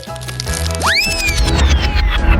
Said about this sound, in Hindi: कैंडी के ऊपर ये रैपर इतनी जोर से क्यों लगे होते हैं? मैं इसे खोल भी नहीं सकती।